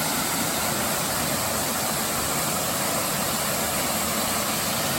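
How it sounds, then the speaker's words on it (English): A waterfall on a forest hiking trail gives off a steady, broadband roar of rushing water, moderately distant and unbroken, with no talk over it. "That's the DC falls."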